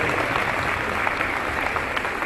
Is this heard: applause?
yes